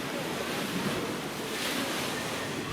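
Sea waves wash steadily beneath a raised restaurant platform over the water in the Maldives, giving a constant broad hiss of surf mixed with breezy wind noise and no voices.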